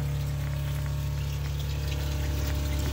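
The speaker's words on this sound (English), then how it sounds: "Here's the pump running the system." Pump running on a BBQ smoker grill trailer's water system, a steady low motor hum with constant droning tones and a faint watery trickle, close and unbroken.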